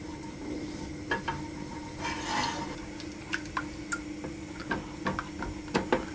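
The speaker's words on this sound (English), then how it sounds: "as I'm heating that, I'm going to stir it" Tangzhong flour-and-liquid mixture is stirred in a pot over low heat, with quiet, irregular tapping and scraping of a utensil against the pot over a soft background hum.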